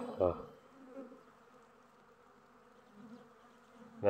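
Hungry honeybees attacking weak hives make a faint, steady buzzing drone, close and quiet, with a couple of louder brief bursts at the start and end.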